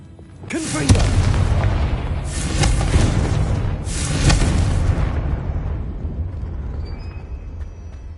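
A Confringo fire spell in Hogwarts Legacy bursts into three loud, rumbling explosion booms in quick succession, each swelling and fading into a long, low roar that dies away without any talk.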